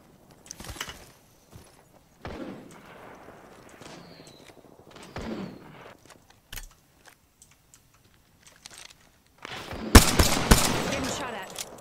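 Video game gunfire aimed at the player arrives as scattered sharp shots, then a dense burst of rapid fire near the end, with a person talking and keyboard clatter between the shots.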